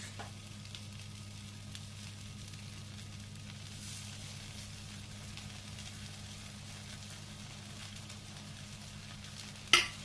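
Spoonfuls of zucchini galette batter fry in a hot pan with a soft, steady sizzle throughout, ending in one brief louder clink near the end.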